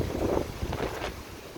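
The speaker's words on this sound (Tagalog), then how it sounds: "medyo mahangin at may kunting sungit ang ating karagatan" Gusty wind buffets the microphone in a low rumbling roar, with a faint wash of sea noise beneath.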